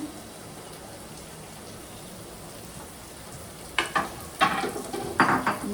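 Chopped carrots and beans go into a hot pan and fry, a steady soft sizzle that is joined near the end by several louder bursts of stirring and scraping.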